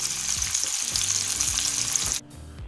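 Scallops frying in butter in a pan, a steady dense sizzle that runs loud and continuous with a few low clatters, then cuts off abruptly near the end, leaving a quieter remainder.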